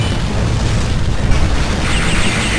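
Bomb explosions in the arcade shooter Metal Slug 7, a dense, continuous roar of booming blasts and gunfire that stays loud for the whole stretch.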